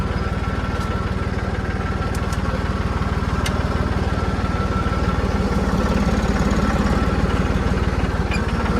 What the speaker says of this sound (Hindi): तो भाई साहब ये ट्रैक्टर जा रहा है डीपी रखवाने के लिए